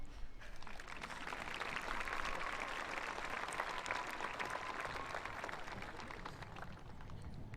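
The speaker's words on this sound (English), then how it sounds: "This is when you clap." An audience at a middle school promotion ceremony claps in a sustained, even round of applause from a large crowd, heard at moderate distance without speech.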